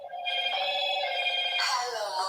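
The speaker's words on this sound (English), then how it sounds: "It's Claire's phone" A mobile phone rings nearby with a bright, tonal ringtone that plays without a break and shifts pitch partway through.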